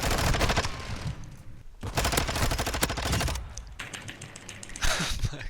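Rapid automatic gunfire in a video game, dense bursts of rattling shots separated by brief pauses, loud and close.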